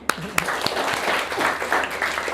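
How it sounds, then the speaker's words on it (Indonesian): A group of participants in a teacher training session clapping together, a dense patter of hands with a few sharp claps standing out, fairly close, steady throughout with some voices mixed in. "tepuk tangan"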